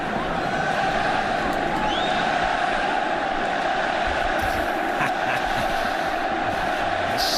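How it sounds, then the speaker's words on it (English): A football stadium crowd cheers at an FC Barcelona vs Real Madrid match, a steady, distant roar of many voices that holds throughout, with commentators talking over it. "Still cheering for somebody called Messi."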